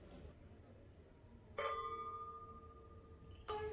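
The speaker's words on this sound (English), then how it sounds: "So you clink your glass by the bowl, not at the edge, because first, the glass is stronger at this point." Two wine glasses clinked together at the bowl ring out twice: a bright chime that sustains for about two seconds, then a second, shorter clink near the end. Both stand alone against a quiet room.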